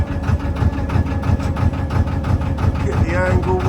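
Low, rhythmic throbbing of a narrowboat engine idling on a canal, close and steady, with a brief higher whine near the end.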